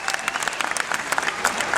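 An audience at a Dieudonné show at the Zénith claps in a short burst of applause for a 70-year-old woman, a dense patter of hands at moderate distance.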